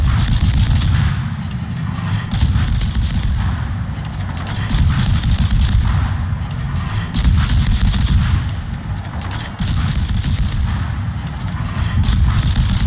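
Warship guns fire in World of Warships in repeated heavy booming salvos every couple of seconds, loud, over a continuous low roar of battle.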